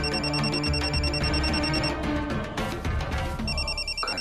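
A telephone rings loudly with a rapid, bright electronic trill, pausing briefly and then starting again, with no one talking over it.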